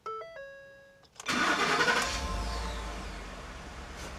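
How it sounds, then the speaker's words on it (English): A Ford F150 with a 6R80 transmission fault starts up: dashboard warning chimes sound first, then the starter cranks briefly and the engine catches into a loud, steady idle. "let's go ahead and start the vehicle"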